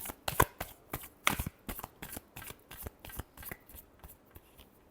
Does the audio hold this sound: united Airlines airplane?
no